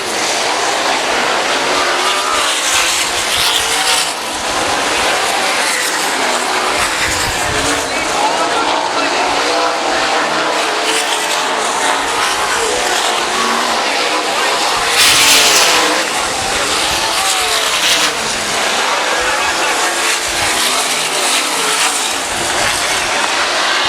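Race cars roar around the dirt track at Southern Iowa Speedway, a constant loud engine drone that swells as cars pass, under an announcer's running commentary.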